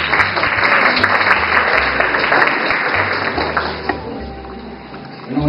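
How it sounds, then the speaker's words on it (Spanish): An audience at a university research presentation on the genetic structure of bean varieties claps for a presenter. Fairly loud, continuous applause runs for about four seconds, then thins out and fades, with a steady electrical hum underneath. "Un aplauso."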